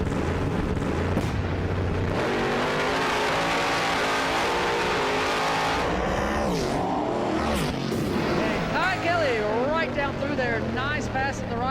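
Drag race car making a pass down the right lane at a Street Outlaws No Prep Kings event, a loud roaring engine run that sweeps and fades, with a commentator talking over it.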